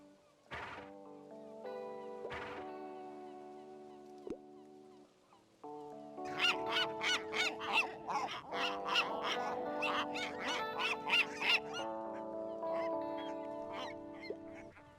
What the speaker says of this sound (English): Something's up with the gulls today.